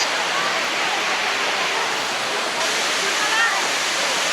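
Steady, loud rush of falling water at Aw-Asen Falls in La Union, heard from close by in the middle of the falls as a constant broadband roar with no pauses.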